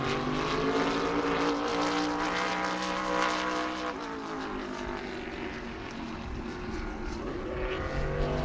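A race car screams past during a qualifying lap at New Smyrna, a loud, sustained high-revving engine note with a pitch sweep as it passes, steady and close throughout with no talk.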